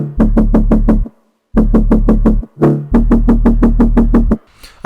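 Jump-up drum and bass bass after layering: a loud, heavy, buzzing bass riff in three rapid stuttering bursts of repeated notes, with short gaps between them, playing alone with no talk.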